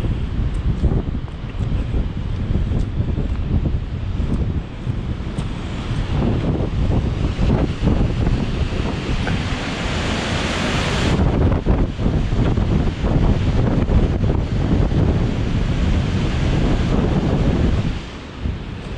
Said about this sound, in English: Thruscross reservoir overflowing here